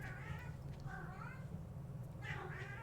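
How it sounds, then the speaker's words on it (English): A pet cat, a male, meows repeatedly in agitation, giving three faint, drawn-out cries spaced across a steady low background hum, with no one speaking. "I don't know if you all can hear my cat, but I think he's losing his mind."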